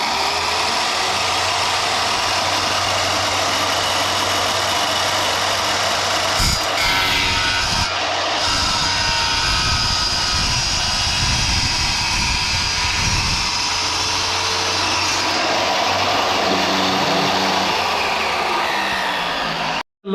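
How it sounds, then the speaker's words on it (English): A RIDGID wet tile saw on its stand cuts ceramic tile. The loud, constant motor roar and grinding last the whole stretch with little change, close by and alone. "Look at what the tile machine did right now."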